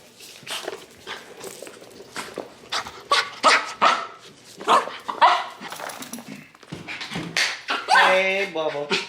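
A house dog barks in short bursts of yips and woofs near the microphone at home, mixed with whimpering and a person talking over it.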